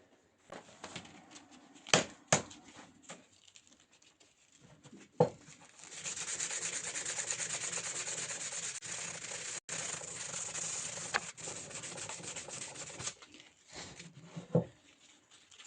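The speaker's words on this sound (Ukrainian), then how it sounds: "Ну, а далі вручну зараз будемо шліфувати і на сам кінець заполіруємо." Steady scratchy rubbing of 120-grit sandpaper on wood by hand for several seconds, preceded by a few knocks and light handling noises.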